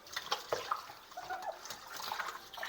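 Water drains out of a washing machine being cleaned at home, a soft gurgling, splashing flow with small irregular surges, fairly quiet and close.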